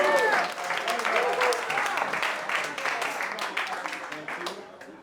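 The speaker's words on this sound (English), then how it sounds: "Wow, what all this love and clapping?" Audience applause fills a room at a storytelling event as a speaker is introduced, with dense steady clapping and some voices that slowly fade over several seconds.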